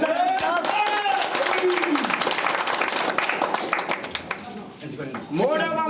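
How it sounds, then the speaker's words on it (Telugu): An audience claps through a village prize ceremony, a dense sustained patter of many hands, while someone speaks loudly over a microphone above the applause. "గట్టిగా చప్పట్లు కొట్టాలి"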